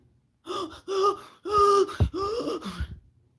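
A voice imitates a man gasping for air after a motorcycle accident, a series of ragged, strained gasps in quick bursts with short pauses, close and fairly loud, with no other talk.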